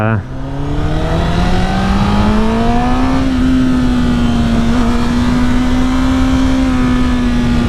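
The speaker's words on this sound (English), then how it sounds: "It's no crossplane, but that actually sounds pretty good for a stock bike." A stock Honda CBR1000RR sportbike engine revs up steadily while riding, one long rising-then-sustained howl with strong harmonics, loud and close throughout.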